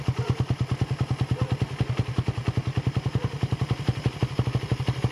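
A Raider 150 Fi motorcycle idles near 1,500 RPM after an idle-screw adjustment and throttle body cleaning. The engine thumps in an even, rapid pulse, close and steady, with no voices.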